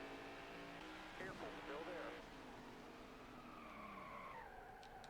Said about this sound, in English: we spun out again